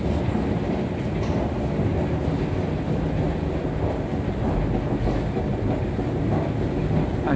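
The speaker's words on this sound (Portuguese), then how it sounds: "Aqui ela vai o trem sentido Rio Grande da Serra." Train at Francisco Morato station, running toward Rio Grande da Serra, gives a steady, loud rumble and rolling rail noise that holds for several seconds, with no talking.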